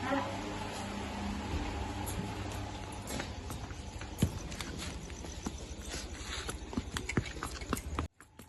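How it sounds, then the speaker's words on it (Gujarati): Irregular hoof clops of a horse stepping on hard ground, with voices talking over them throughout. "બહાર નીકળી ગઈ છે ઘોડી, રમાડવાનું સ્ટાર્ટ થઈ ગયું છે।"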